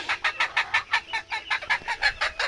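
Sebright hens cluck in a quick, regular run of about fifteen short calls, close and clear with no talking.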